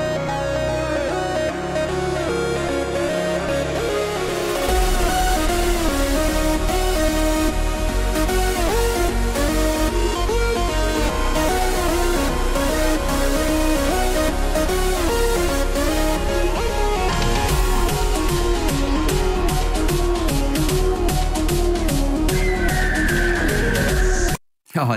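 Music processed with the slow triplet preset of the Gross Beat effect in FL Studio plays loud and continuous for about twenty-four seconds with a rhythmic, stuttering triplet-feel pulse, then cuts off abruptly.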